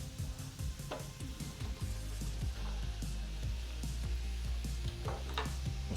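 Peppers tossed into softening onions in a hot pan for outlaw-style brisket chili, a steady loud sizzle with spoon scrapes and stirring clatter throughout, close up and without talking.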